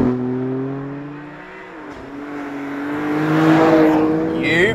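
A BMW M3 CSL E46 road racer with a naturally aspirated straight-six drives on an empty mountain road. The close engine note holds steady, dips briefly, then rises as it revs up through acceleration, with a voice talking over it.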